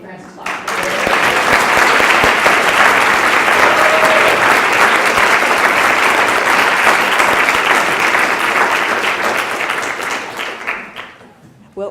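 Sustained applause from a lecture audience greets Frances Fox Piven, dense and steady clapping for about ten seconds before it tapers off at the end.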